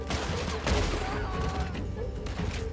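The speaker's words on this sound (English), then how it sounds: "Stop shooting at me from on high." Enemy gunfire in Red Dead Redemption 2, shots cracking from up on a cliff in quick overlapping bursts, loud and close with a game soundtrack underneath.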